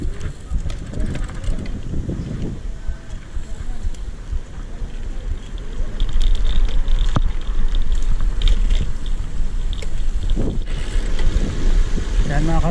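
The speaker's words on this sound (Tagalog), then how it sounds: "makikita nyo napakalakas ng hangin" Strong headwind roars across the microphone during a road bike ride, a loud, continuous buffeting rumble that swells and gusts throughout, with a rider's voice briefly audible under it.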